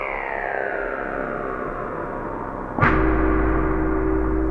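A Softube Model 77 software synth emulating the Yamaha CS80 plays its Frogs from Saturn space-sound preset: a slowly falling, wobbling tone that suddenly swoops into a loud, buzzing, sustained low drone.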